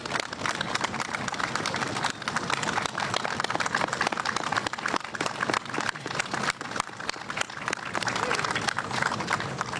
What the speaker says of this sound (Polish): Ja myślę, że te brawa są zasłużone jak najbardziej.